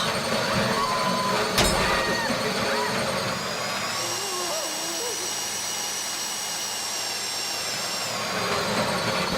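A power drill whirs continuously under a low mechanical drone during the Fleeca Job heist in GTA Online, with a brief sharp burst early on and a shift in pitch partway through.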